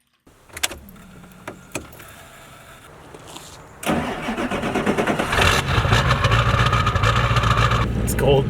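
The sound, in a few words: Ford 7.3 Powerstroke diesel engine cranking over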